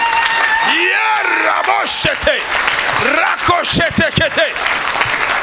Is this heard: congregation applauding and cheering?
yes